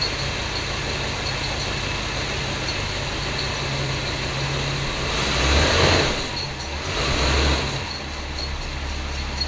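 A 1966 Ford Galaxie 500 V8 runs at a fast idle that is set too slow, giving a steady low rumble up close, with two brief swells in engine noise near the end.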